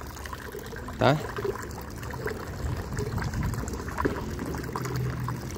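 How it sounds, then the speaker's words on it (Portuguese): Water from a ram pump pours steadily into a small bucket, a continuous splashing trickle running under a man's speech. "O nosso baldinho aqui vai enchendo."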